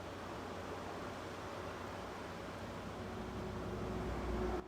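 Steady broadband surf wash from ocean waves at a Southern California beach campsite, continuous and fairly close, swelling slightly louder near the end.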